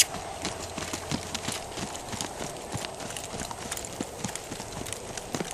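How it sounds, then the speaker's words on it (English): Rhythmic hoofbeats of a mustang gelding trotting circles under a rider in a training session, steady clip-clop strikes repeating throughout at close range with faint background noise. "Put my leg on his flank and get him to trot some circles."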